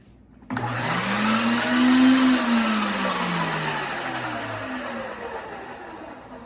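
An electric mixer starts abruptly and whirs steadily as it works flour into dough for a king cake, its motor pitch rising then slowly sagging under load, close and fairly loud.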